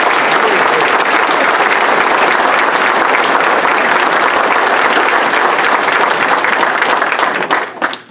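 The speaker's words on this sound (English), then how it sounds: "I would love to have a huge round of applause" Sustained loud applause from an outdoor crowd at a Wreaths Across America stop ceremony in Gardner, Massachusetts, steady clapping for about seven seconds before tapering off at the end.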